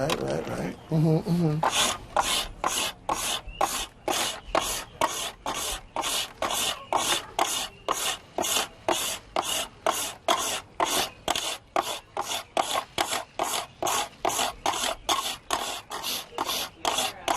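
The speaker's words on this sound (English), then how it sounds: "I also have what's called a scraper. And the scraper acts like sandpaper." A hand scraper smoothing wood, used like sandpaper at a pioneer-days demonstration, making a long series of regular rasping strokes, about two per second, close and fairly loud.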